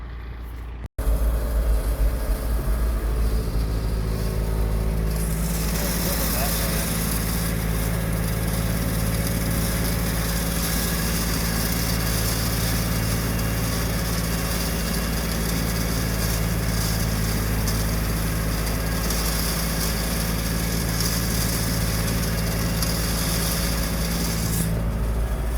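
An old 6700 tractor engine runs steadily while raking hay in late October, a loud continuous drone holding an even pitch throughout, with a brief sharp knock right at the start.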